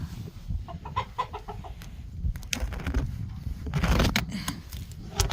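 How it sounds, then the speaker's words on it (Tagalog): Chickens being fed in their coop cluck in short repeated bursts, near and moderately loud, amid shuffling and scattered noises around the pen. "yan ang aming mga manok"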